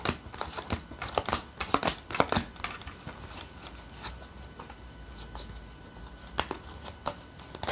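Thick tarot cards are flipped and handled one by one, giving a steady run of crisp papery clicks and slaps at close range with no talking.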